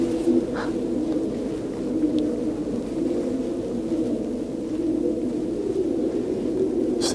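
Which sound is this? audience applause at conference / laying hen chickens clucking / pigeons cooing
pigeons cooing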